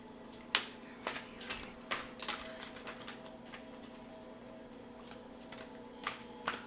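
A tarot card deck being shuffled, soft riffling and patting bursts at close range, quiet and irregular, with a faint steady hum underneath.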